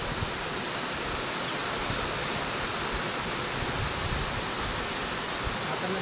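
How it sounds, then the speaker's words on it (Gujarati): Heavy runoff from a downpour rushes past in a steady, dense wash of broadband noise, continuous and fairly close with no pauses or distinct splashes. "તમે જોઈ શકો છો પાણી પાણી કેટલું બધું જાય છે, બહુ પાણી છે"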